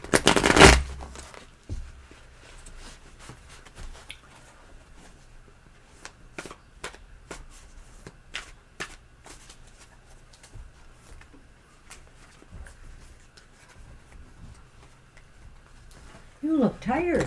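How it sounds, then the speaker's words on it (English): Tarot cards shuffled at a table on a morning reading stream, giving a run of soft, close riffling clicks and flutters that come in repeated bursts, with a voice talking briefly at the start and near the end. "I'll let you shuffle first."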